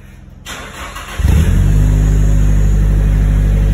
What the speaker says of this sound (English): Time to turn it on, warm it up and do a skid.